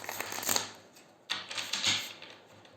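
Tarot cards being shuffled by hand, two quick riffling bursts of papery flutter and clicks separated by a short pause, soft and close.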